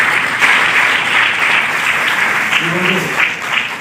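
An audience at an International Women's Day workshop attended by a judge gives steady, loud applause, a dense unbroken wash of clapping lasting several seconds.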